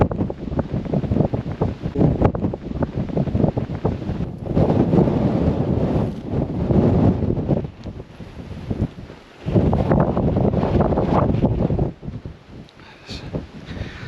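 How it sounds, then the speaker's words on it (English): Strong gusting wind on open moorland near Princetown roars across the microphone continuously, rising and falling in loud blasts with brief lulls. "Let's go in here and try and get out of the wind."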